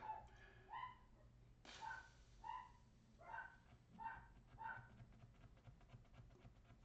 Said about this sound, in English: so you can hear him barking in the background